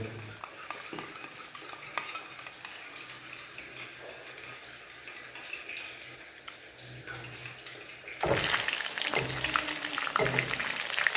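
Chicken drumsticks being stirred with tomato ketchup and black pepper, soft scraping and sizzling in a pan that grows louder and busier toward the end, with no talking.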